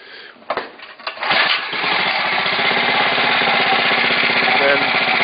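A Motovox MBX10 mini bike's small engine is pull-started: a couple of sharp tugs, then it catches and settles into a loud, steady, buzzing idle that runs close by without pause.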